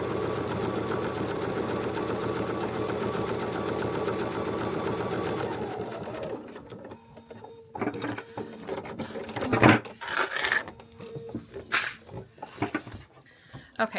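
A sewing machine stitches pieces of a feathered star quilt block in steady, continuous runs for about six seconds, then stops, followed by fainter handling and rustling of fabric and paper nearby.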